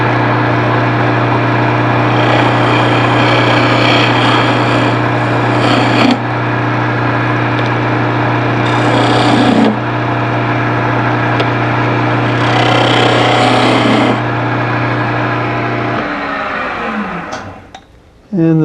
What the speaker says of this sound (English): what I'll do is clean up the bottom with the square nose scraper